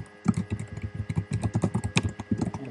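Rapid typing on a computer keyboard, a close, steady patter of distinct key clicks with no voices.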